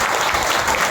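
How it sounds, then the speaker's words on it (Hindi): A church congregation applauds during a sermon, a dense, loud burst of steady clapping from many hands, with no talk over it. "इसके लिए ताली बजाओ।"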